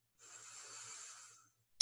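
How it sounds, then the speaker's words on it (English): A single slow, deep breath drawn in through the nose during a guided breathing exercise, soft and close, with no talking. "in through your nose, breathing down to your belly"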